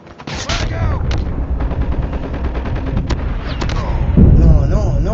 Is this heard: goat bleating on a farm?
no